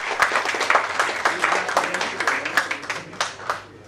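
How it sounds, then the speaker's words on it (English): Audience applause at a banking quiz competition semi-final: a dense, steady patter of many hands clapping close by, holding for about four seconds before tapering slightly at the end. "please do clap for them anyways"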